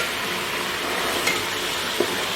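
Chicken pieces frying in a pan for bastilla hiss and sizzle steadily while being stirred, with a couple of faint scraping knocks against the pan.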